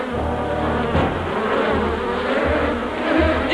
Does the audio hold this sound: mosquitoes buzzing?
yes